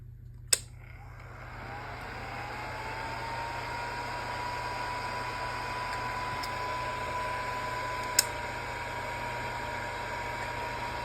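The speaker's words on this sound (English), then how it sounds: "And the heat tool will start to melt that embossing powder." A heat tool blows hot air in a steady, fairly loud whooshing hiss with a thin whine rising and settling, melting embossing powder on a card background; two sharp clicks mark switching on and near the end.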